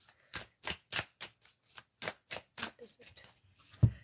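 Kali oracle cards being shuffled by hand, a run of about a dozen crisp, close riffling slaps at an uneven pace, ending with a firmer knock.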